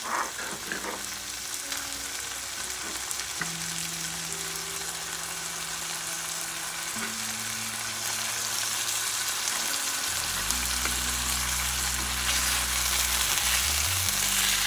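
Onions hitting a hot pan and frying while flanken-cut beef ribs cook, a steady loud sizzle with stirring and scraping of the pan throughout, close up with no talking.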